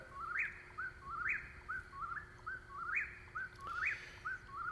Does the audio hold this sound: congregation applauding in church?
no